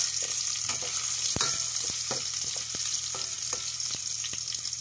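Garlic and ginger fry in hot oil in a pan, making a steady bright sizzle close up, broken by repeated clacks and scrapes of a stirring utensil, with no talk.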